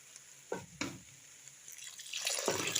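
Water splashes and drips into a cooking pot of pilau rice close by, beginning with a few separate plops and then becoming a steadier, hissing pour.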